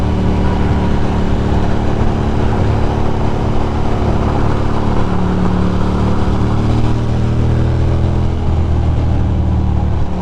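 A Ducati motorcycle cruises across the Queensboro Bridge with a continuous engine drone and heavy wind and road roar. The engine rises gently in pitch as the bike speeds up a little.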